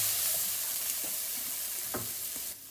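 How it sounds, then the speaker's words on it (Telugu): Mixed vegetables with softened tomato and onion frying in a pan, a steady broadband sizzle with a few soft stirring scrapes, close and alone without voices. "వెజిటేబుల్స్ అన్నీ ఫ్రై అయిపోయినాయి"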